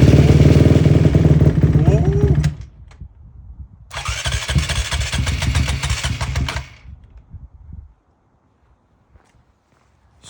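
Dirt bike engine starting after a carburetor rebuild: a loud running engine cuts out, fires up again for a few seconds of rough running, then stalls into silence.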